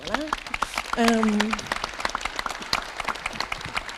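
A conference audience applauds to welcome a speaker at an urban mobility event, with scattered, moderately loud clapping running throughout as voices speak over the start.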